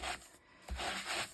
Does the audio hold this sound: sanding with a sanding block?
yes